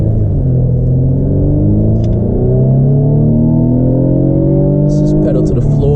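A Mercedes-Benz C300 accelerates hard with the pedal floored, its engine climbing in a rising roar toward 6,000 rpm, then a shift near the end, heard from inside the cabin with the driver talking over it.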